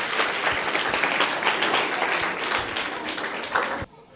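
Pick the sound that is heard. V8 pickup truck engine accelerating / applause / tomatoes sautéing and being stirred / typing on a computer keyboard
applause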